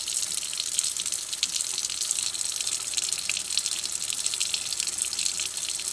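Tap water runs steadily over vape coils to rinse off black gunk, a continuous close hissing gush with no voices.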